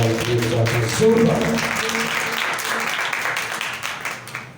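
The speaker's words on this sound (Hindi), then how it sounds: "जोरदार तालियां खुदा के लिए" Applause from a church congregation during a sermon, clapping that swells over lingering music and voices, then slowly thins and fades toward the end.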